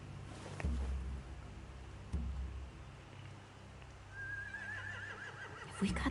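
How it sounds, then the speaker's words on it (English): Horses neigh in The Walking Dead video game, one whinny rising and trembling near the end over low thumps and ambient game noise. "They have horses."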